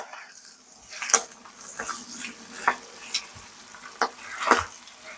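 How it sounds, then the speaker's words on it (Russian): Spices get stirred into minced meat frying in oil in a pan, with soft sizzling under scattered scrapes and taps of a utensil, close up and moderately loud. "Дадим вам возможность прогреться специям в масле. И вымешаем их в мясо."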